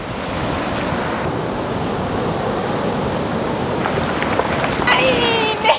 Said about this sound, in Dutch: Dat het water tot bij mij kwam. Zo mooi. ASMR on the beach.